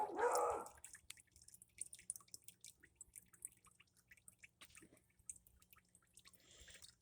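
A leaky faucet drips water in a quiet room, with a single louder splash at the start followed by faint, scattered small drips.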